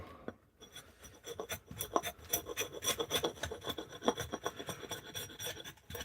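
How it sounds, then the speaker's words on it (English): A hand tool takes a planing cut while carving a wooden bowl, close rasping scrapes in quick repeated strokes, each a short dry shaving sound, no voices. "A bit of a planing cut."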